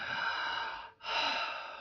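Close, audible breaths fill the clip: a sustained exhale, a brief pause, then another long breath, near and soft, with no talk.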